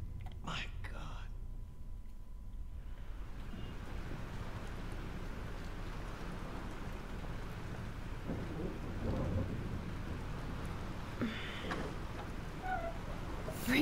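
A thunderstorm in Life is Strange: steady heavy rain hiss with low thunder rumbles throughout, plus a few sharper cracks near the start, with faint voices underneath.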